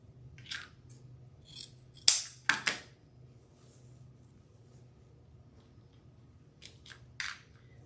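Scissors trim ribbons for a spring tree decoration, giving a few quiet, close snips spaced apart with hushed pauses between them and no talking.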